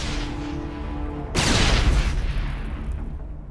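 A sudden loud blast erupts partway through Mass Effect Legendary Edition gameplay, a broad roaring burst that cuts over quieter game ambience and then decays slowly into a lingering rumble.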